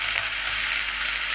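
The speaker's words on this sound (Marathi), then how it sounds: "आता मी कांदा सोडते" Onion hitting hot oil in a pan for pav bhaji, a steady, bright sizzle of frying that stays loud and even throughout, with no voices.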